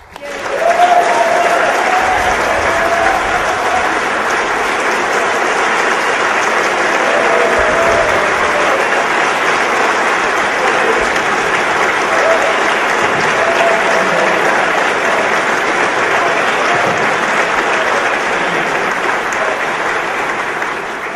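Steady, loud applause from a large audience greets Ron Paul at a speaking event on sound money, a dense sustained clapping that continues unbroken for about twenty seconds.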